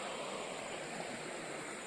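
Water runs constantly in a well pit near the Bhavani river, a faint, steady rushing hiss with no voices.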